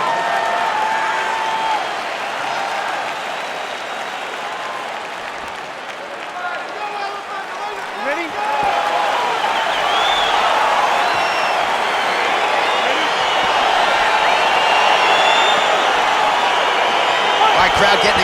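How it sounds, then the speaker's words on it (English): Arena crowd in the UFC 4 video game, a bout between Anthony Johnson and Thiago Santos, roars and cheers steadily throughout, swelling louder in the second half, with a commentator's voice over it. "Crowd getting excited as this fight gets underway"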